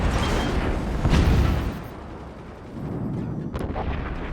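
A howitzer in the video game Forts fires with a heavy booming blast, followed by a quieter rumble and a second sharp report near the end, with no talking.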